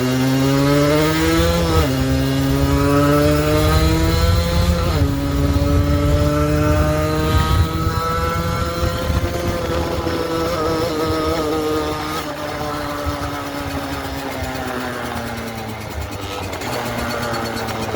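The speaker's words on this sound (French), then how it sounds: "je rétrograde, vous voyez? Genre, j'embraye, je donne un coup vers le bas" A 50cc manual-gearbox motorcycle engine runs close and steady while downshifting, its droning pitch dropping sharply at each gear change, then climbing and settling again over a continuous loud hum, with no voices.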